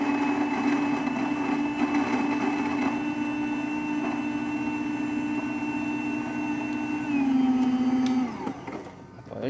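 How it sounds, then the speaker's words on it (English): A Gaggia Babila espresso machine with a new water pump makes an espresso, giving a steady loud mechanical hum and buzz that shifts pitch near the end before winding down, with no talking. "Now we can do an espresso."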